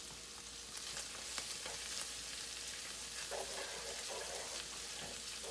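Beef and broccoli stir-frying in a pan with soy sauce, a steady low crackling sizzle throughout with a few louder pops, no talking.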